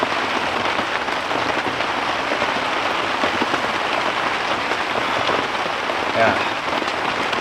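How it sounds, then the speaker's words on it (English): Heavy rain drumming steadily on a tent during a camping trip with a dog, a dense, constant close patter with a brief louder thump near the end and a short word spoken. "It's raining quite a lot"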